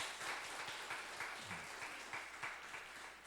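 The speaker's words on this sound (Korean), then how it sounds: "우리 박수 한번 치겠습니다." A church congregation applauds during a Sunday worship service, a steady wash of many hands clapping at moderate distance for a few seconds, fairly soft and even throughout.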